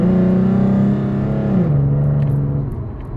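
A car fitted with new control arms accelerates hard in a test pull, its engine a loud, close, droning roar that drops in pitch at a gear change and then keeps pulling before easing off.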